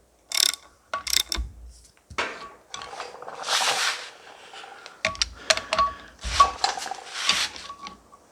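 Ratchet wrench tightening flywheel bolts in a crossways pattern on a John Deere 1640 tractor, close, crisp bursts of rapid clicking separated by short pauses and the clink of metal, no talking.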